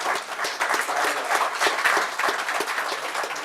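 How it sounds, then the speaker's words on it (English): Audience applause at a health insurance summit, a steady burst of many hands clapping throughout, fairly close and sustained without a break. "One big round of applause for us"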